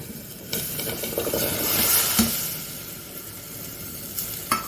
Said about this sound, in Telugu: ఈ చింతపండు రసంలో కూరగాయ ముక్కలు వేగితే